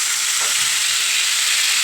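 Crushed pepper mixture dropped into hot oil for an old-style molokhia and aubergine dish, giving a steady, bright sizzle that stays even and close throughout with no voices.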